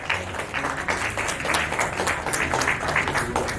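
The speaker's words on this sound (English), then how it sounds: "A big round of applause." An audience at the Best Face 2024 award show applauds after a winner is announced, a dense, sustained wash of many hands clapping in a hall, loud and unbroken throughout.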